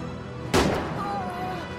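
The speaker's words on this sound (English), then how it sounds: "More cannon, father." Cannon artillery fire in the Hammer & Sickle video game: a single loud, sharp blast with a rumbling decay, followed by a faint whistling tone, with no talk over it.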